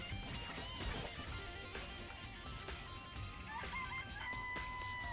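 Chickens cluck and a rooster crows in the Danganronpa video game, a dense, steady barnyard chorus over a busy game soundscape.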